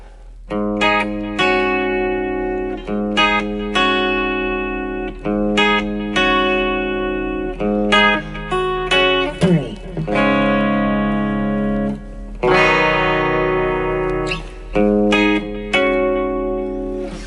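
Electric guitar notes and chords, set up with plate reverb, ring out with a smooth, lingering reverb tail, played in short phrases with brief pauses between.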